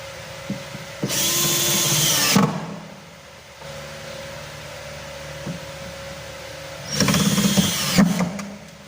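Power drill driving screws into a concealed inset hinge on a cabinet door, two loud whirring bursts of about a second and a half each, separated by quiet handling noise.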